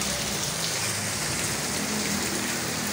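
Steady rain falls continuously, a dense even hiss with no pauses, close by and alone without any voices.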